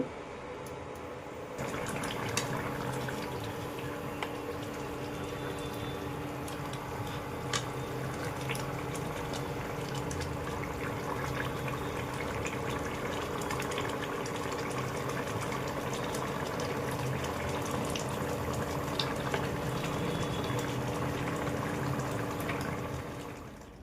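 Water poured into a cooking pot after long frying of spices, then a steady bubbling boil that fills the kitchen for over twenty seconds, with no voices.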